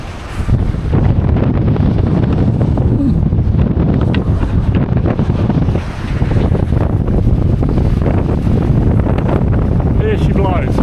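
Strong wind buffets the microphone on the deck of a sailboat at sea, a loud, continuous roar with water washing below and gusts swelling and dipping throughout.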